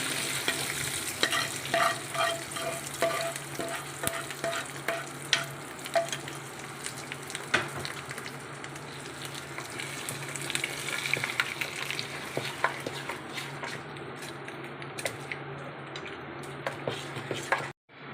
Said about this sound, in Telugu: ఇంకా తాలింపు పెట్టేసుకుందామండి.